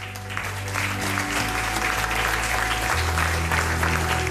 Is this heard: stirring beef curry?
no